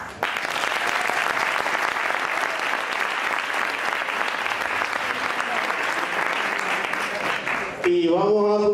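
Audience applause fills a flamenco tasting night in Mataró, a dense steady clatter of many hands lasting several seconds before breaking off abruptly into a man's speech.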